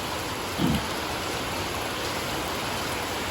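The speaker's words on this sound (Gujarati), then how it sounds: "આખો દી વરસાદ કેવો કહે જોયું છે આપણે અત્યારે તો જો ચાલુ છે એક ધારો" Steady, continuous rain falling all day in a village, a dense unbroken hiss holding at an even level throughout, with one brief low thump early on and no voices.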